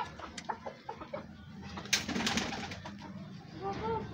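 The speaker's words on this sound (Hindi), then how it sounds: "आपको मैं ना कबूतर दिखाता हूँ अंदर से, कितने खूबसूरत हैं जी, पिंजरे के अंदर हैं" Pigeons cooing inside a cage, soft low coos repeating under a busy background with bird calls and faint voices nearby.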